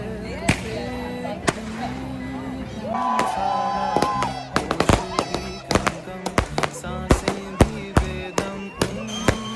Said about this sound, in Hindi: आज़ादी पाकिस्तान की खुशी में आतिशबाजी का मुजाहरा किया गया